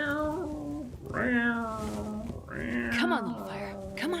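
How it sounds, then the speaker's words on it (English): A cat meows repeatedly up close, a string of drawn-out, rising and falling cries with short breaks between them and nothing else audible. "Sure, cat noises."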